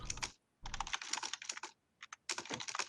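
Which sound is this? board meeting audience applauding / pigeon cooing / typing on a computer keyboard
typing on a computer keyboard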